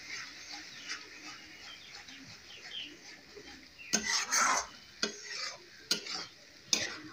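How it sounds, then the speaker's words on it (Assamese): Spice paste with ground tomato sizzles softly in a pan for mutton curry, then a spatula scrapes through it in several sharp stirring bursts near the end. "আকৌ এইখিনি ভালদৰে ফ্ৰাই কৰিম।"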